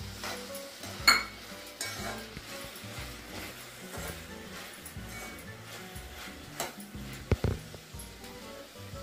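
Green peas tipped into a pan of frying vegetables and peanuts, then stirred with a utensil: soft sizzling under irregular scraping and clinking of metal against the pan, with a couple of sharper knocks, close and moderately quiet.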